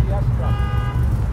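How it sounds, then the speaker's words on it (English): Car alarm sounding at a distance, its wavering electronic tone running under people talking and the low rumble of a nearby idling 2006 Hennessey Venom twin-turbo V10. "That car alarm was not us."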